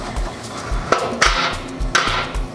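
A small metal wing nut drops during the outdoor assembly of a new raised garden bed, hitting with a few sharp, ringing clinks and knocks close by over a steady low background.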